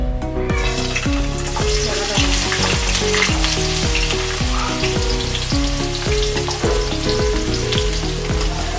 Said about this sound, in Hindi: अब हम इसमें ऑनियन डालेंगे।